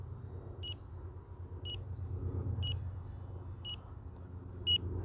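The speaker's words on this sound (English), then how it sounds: "my timer's going off" A timer beeps in short, evenly spaced high chirps, five in about five seconds, over a low rumbling background from an RC plane flying session outdoors.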